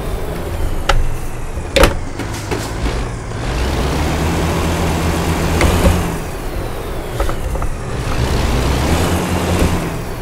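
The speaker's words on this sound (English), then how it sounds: "Truck gets a little loud after a while." A steady, loud rumbling truck engine in American Truck Simulator drones throughout, with occasional hisses and clunks, synthetic and continuous like a game vehicle.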